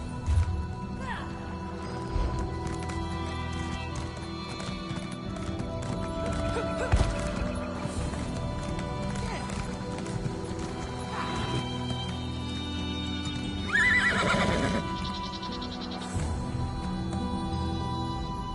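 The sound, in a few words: horses neighing and hooves in video game Elder Scrolls Online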